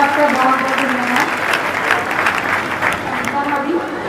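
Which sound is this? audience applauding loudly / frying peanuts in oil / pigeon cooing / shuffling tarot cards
audience applauding loudly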